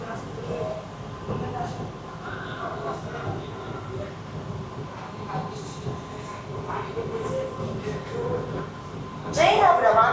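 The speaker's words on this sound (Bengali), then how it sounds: "ट्रेन अब रवाना हो रही है।" Sealdah–Bangaon AC local train pulling away, a steady rumbling hum of the carriage interior with faint rail clatter throughout, voices talking over it, and a louder burst of noise near the end.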